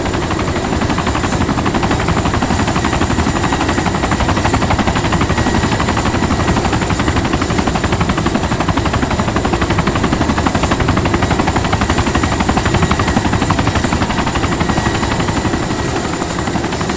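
A helicopter roars loud and close in the video game DayZ, a constant dense rotor and engine drone with rapid gunfire mixed in, sustained and unbroken throughout.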